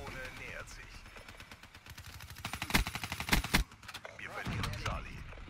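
Gunfire from a Call of Duty Black Ops III multiplayer match, several sharp bursts and single shots clustered in the middle, sounding moderately loud amid game effects, with someone talking around them.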